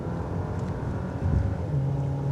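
Engine of a Ram Rampage R/T 4x4 pickup with 272 hp accelerating hard, a steady loud low drone from inside the cabin with a brief surge and rising tone suggesting a quick gear change.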